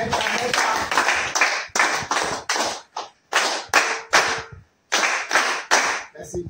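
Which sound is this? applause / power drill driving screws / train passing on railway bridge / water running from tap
applause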